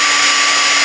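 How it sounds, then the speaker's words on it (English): A power drill bores a small pilot hole while a circle jig for a router trimmer is being set up, giving a brief, loud, steady high whine with no pauses. "I'm just going to drill a little hole"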